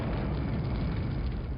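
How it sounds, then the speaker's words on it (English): A sustained low explosion rumble from the video game S.P.Q.R. The Emperors Darkest Hour, a steady dense roar that stays loud and even throughout with no voices. "But it still does the explosion here."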